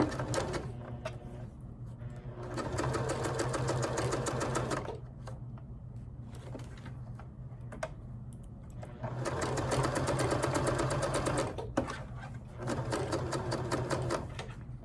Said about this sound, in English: And we're going to just sew right down that lined up.